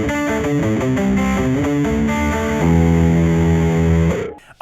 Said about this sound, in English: I'm using an Electro Harmonix Big Muff Deluxe bass distortion here